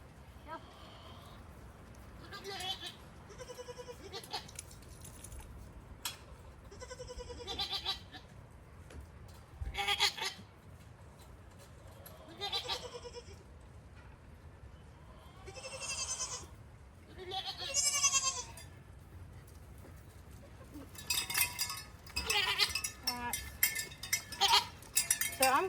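Mother goats and kids bleating on a farm during rearranging, in scattered cries of varying pitch, some close and loud, others fainter, turning into a busy overlapping chorus near the end over low background noise.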